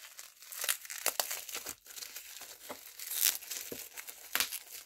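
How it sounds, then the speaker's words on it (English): Continuous crinkling and tearing of plastic packaging being unwrapped, close and busy with irregular crackles throughout, no speech. "let me just unwrap them."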